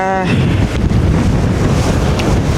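Strong wind buffets a boat near Volendam, its heavy roaring gusts rushing steadily and loudly against the microphone, with a brief tonal whine at the start.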